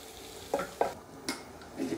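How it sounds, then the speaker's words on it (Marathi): Pav bhaji vegetables stirred with a spoon in a kadai, giving a few soft scraping and clattering strokes over a low sizzling background. "छानपैकी मिक्स करून घेऊया."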